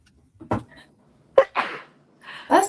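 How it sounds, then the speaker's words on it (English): A single person sneezes indoors, with a sharp intake before the burst and softer breathy sounds around it, fairly quiet and close. "have to sneeze"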